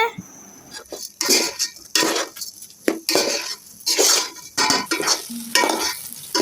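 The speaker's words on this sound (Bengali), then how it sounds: "পোলাও চালগুলোকে খুব সুন্দর করে ভাজা হচ্ছে।" Pulao rice being fried with spices in a big pot, heard as repeated loud metal spoon scrapes and clanks in an irregular stirring rhythm over a soft background sizzle, close and without speech.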